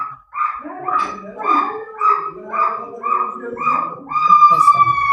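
A dog barks in a steady series of about seven yelping, howl-like calls, close and fairly loud, followed by a higher drawn-out whine; people talk nearby in French.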